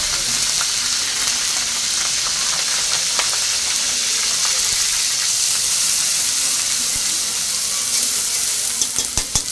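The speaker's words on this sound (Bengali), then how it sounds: "এই যে চুলাটা ধরায় নিলাম গরম হয়ে গেছে এখন আদা বাটা রসুন বাটা পেঁয়াজ বাটা দিয়ে দিলাম" Ginger, garlic and onion paste frying in a hot pan on the stove, a loud continuous sizzle with crackling spatter and occasional stirring noises, no talking.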